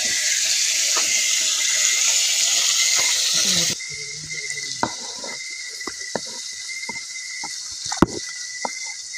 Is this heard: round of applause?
no